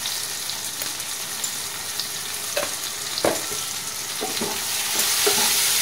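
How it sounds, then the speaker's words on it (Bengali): Spices frying in a pan for a spinach dish while being stirred, a continuous close sizzle broken by scraping and tapping of the stirring spoon, with no talk. "ভালো করে মশলাটাকে কষবো যাতে কাঁচা গন্ধটা চলে যায়।"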